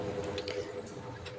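Cream is stirred into a cashew and almond meat curry, making soft, wet squishing and dripping sounds close by in a brief, steady burst.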